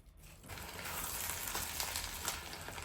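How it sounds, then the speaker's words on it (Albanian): Onions fry in about 100 ml of oil over medium heat, giving a steady, dense sizzle that swells up after a quiet half-second start, with faint stirring scrapes running through it. "Dhe në temperaturë mesatare I fërgoj derisa të zbuten mirë, I përzi kështu vazhdimisht gjatë fërgimit."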